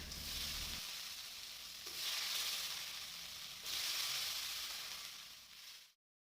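Butter sizzles steadily in a pan while being cooked down into homemade ghee, a continuous close frying hiss that swells twice before cutting off abruptly.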